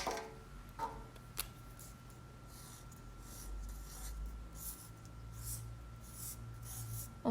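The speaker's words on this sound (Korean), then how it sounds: "다시 그림 한번 그려볼게요" A pen scratches and rubs softly across paper while eyebrow design guide lines are drawn by hand, producing a faint, close, uneven sequence of strokes with no talk.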